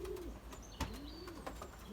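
A grizzle racing pigeon coos nearby in soft repeated rising-and-falling calls, with faint chirps and a sharp knock in the background.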